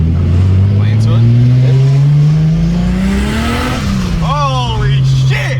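Tuned car accelerating hard through a full pull on the road, engine note rising steadily and loudly, with tires spinning and squealing near the end; a voice speaks briefly over the noise.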